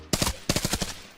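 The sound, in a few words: gunfire in a video game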